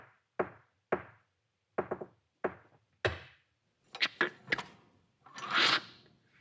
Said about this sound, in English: Rap on the door 3 times.